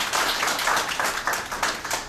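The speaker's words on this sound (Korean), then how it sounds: "박수로 환영해 주시면 고맙습니다." Applause from an audience welcoming advisers at a Korean economic-democracy and national oil company gathering: dense, steady clapping from many hands filling the room for about two seconds.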